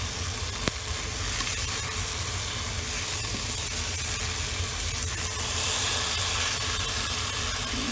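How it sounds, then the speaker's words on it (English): Veal searing in a hot buttered pan, a steady bright sizzle and hiss that stays constant and close, with no voices over it. "It's starting to get a nice sear."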